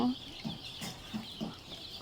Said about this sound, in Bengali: আমাদের ফার্মে মুরগির বাচ্চাগুলো বোর্ডিং চলতেছে